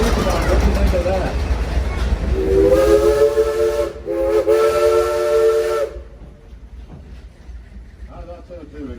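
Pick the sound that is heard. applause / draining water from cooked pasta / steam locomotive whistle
steam locomotive whistle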